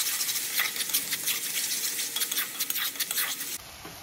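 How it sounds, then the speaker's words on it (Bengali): Spices with chili powder and salt being stirred and sautéed in a pan give a loud, continuous sizzle with scraping stirs, which drops off abruptly near the end. "এবার একে ভালো করে কষাতে থাকবো।"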